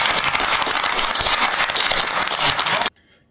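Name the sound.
crowd cheering and applauding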